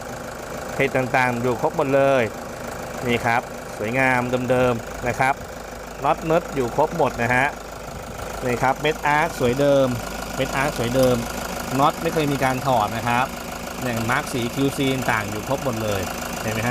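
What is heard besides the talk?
Toyota Hiace 3.0 van diesel engine idling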